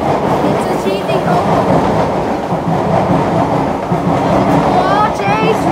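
A train rolls past near Buona Vista Station in Singapore, a loud steady rumble of wheels and motor lasting several seconds, with rising electric whines from the traction motors near the end.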